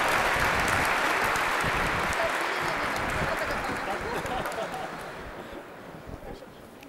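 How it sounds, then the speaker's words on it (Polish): Warm applause fills the hall at the Ernst & Young Entrepreneur of the Year final gala, a dense, loud clapping that slowly thins and fades toward the end, with a voice faintly audible. "Gorące oklaski, proszę Państwa."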